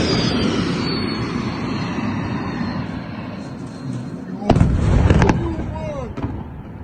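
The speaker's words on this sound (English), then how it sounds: "There's the hypersonic missiles." Hypersonic missile strikes explode over a rumbling background, with a sudden loud burst of sharp blasts partway through followed by a few scattered cracks, and voices faintly present.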